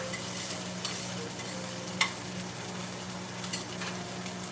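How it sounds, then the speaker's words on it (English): A pan of tortilla and birria sizzles softly and steadily with occasional clinks of a utensil, close by and without talk. "Hear that pan sizzling?"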